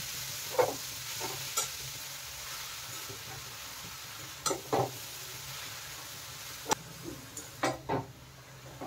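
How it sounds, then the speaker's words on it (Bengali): Grated carrots fry slowly in a pan for carrot halwa with small cardamoms, a steady soft sizzle running throughout, punctuated by several quick scraping stirs of a spoon against the pan. "গাজরগুলো ধীরে ধীরে ভালো করে ভেজে নেব।"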